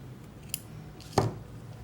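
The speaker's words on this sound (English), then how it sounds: "Okay, so I'm just going to cut this yarn here." Scissors snip through crochet yarn in two quick, close cuts, the second louder, against a quiet room with no talking.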